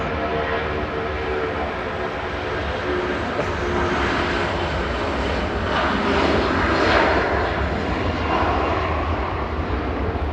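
An airliner taking off for Malaga from Manchester Airport gives a loud, continuous jet roar, with a whining tonal hum running through it. The sound swells slightly toward the middle, and no one speaks.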